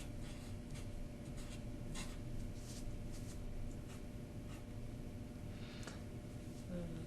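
Pen or marker writing equations on a board during a statics lecture on an inclined-plane problem, quiet scratchy strokes in short bursts against a steady room hiss, with no talk over them.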